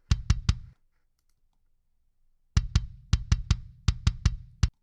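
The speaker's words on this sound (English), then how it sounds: "I'll mute the trigger for a second so you can hear the original kick drum track." Soloed kick drum track from an emo rock recording: a quick burst of three thuds, a short silence, then a fast run of sharp, punchy kicks in clustered rhythm.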